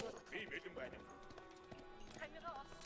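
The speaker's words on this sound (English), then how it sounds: "The Mangudai are coming." Mongol Mangudai horse archers gallop in Age of Empires 4, their hooves clip-clopping in quick clusters with a brief whinny, fairly faint beneath someone talking.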